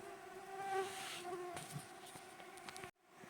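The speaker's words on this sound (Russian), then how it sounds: "Вот это комарище." A mosquito whines steadily in close, a thin continuous buzz that holds for nearly three seconds and then cuts off abruptly.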